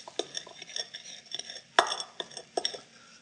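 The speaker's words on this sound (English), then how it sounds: "I'm just going to rock the heel of that pan over these spices on a wooden cutting board" The heel of a pan rocks over whole European spices on a wooden cutting board, making a run of close, light knocks and crackles with one sharper crunch partway through.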